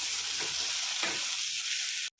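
Capsicum fries in a hot pan while being stirred, a steady close sizzle with soft scraping strokes of the spatula, cutting off abruptly at the end.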